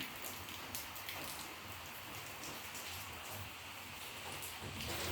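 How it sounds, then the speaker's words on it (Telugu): Monsoon rain falls outside in an even, soft hiss with faint scattered patter, steady throughout and heard from indoors. "వర్షం పడుతుంది వర్షం పడ్డందుకు వర్షాకాలం అయితే స్టార్ట్ అయింది"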